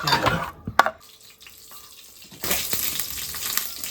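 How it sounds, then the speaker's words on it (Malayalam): Mustard seeds fry for parippu dal tempering in a home kitchen, a soft crackling sizzle that drops quiet briefly and then returns as a steady, close hiss. "പരിപ്പിൻ്റെ കടുക് വറക്കുവാണേ."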